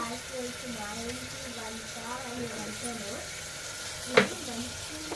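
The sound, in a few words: two chillies frying and sizzling in a pan for brinjal mutton curry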